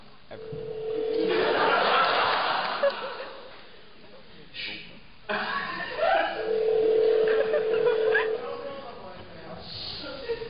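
A phone on speakerphone gives a dial tone and dialing tones, steady electronic tones with short beeps, heard over and between people talking and laughing nearby.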